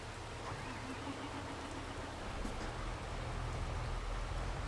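Steady rain pours in a Farming Simulator game, a dense, even hiss of falling water that holds at a constant level throughout with no voices.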